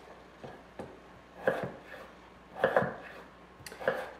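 Several distinct knife chops through potatoes on a board, coming in small clusters with pauses between them, close and moderately loud.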